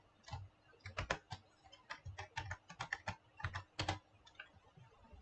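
Rapid keystrokes on a computer keyboard while PHP code is typed, an uneven run of close, crisp clicks in quick bursts with brief pauses, heard alone without talk.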